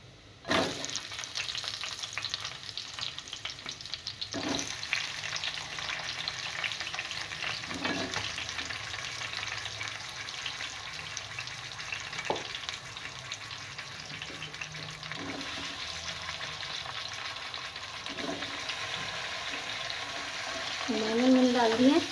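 Eggplant sizzles in a pan with golden-brown fried onions for an aloo baingan curry, a steady loud frying hiss with occasional scraping stirs, and a brief bubbling gush near the end.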